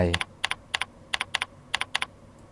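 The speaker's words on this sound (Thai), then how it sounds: "ให้เราใส่รหัสผ่านของ Gmail ป้อนรหัสผ่านลงไป" Typing a Gmail password on a computer keyboard: about ten crisp, close keystrokes in small irregular clusters over a couple of seconds.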